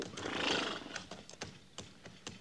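Horses whinnying and hooves clip-clopping in an old-time Western radio drama on a cattle drive among rocks, a loud neigh first, then a rhythm of hoof clops close by.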